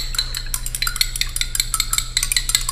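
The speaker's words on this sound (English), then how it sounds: "Give it a stir." A spoon scrapes and clinks rapidly against a glass holding water and salt, a steady run of bright, close stirring taps with no voices.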